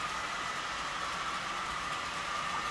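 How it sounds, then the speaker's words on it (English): A steady, continuous rumble of a model locomotive as its brakes release and engine revs up pulling away, with a sustained mechanical drone and no clear pauses or talk. "You can hear the brakes release and engine rev up as it pulls away."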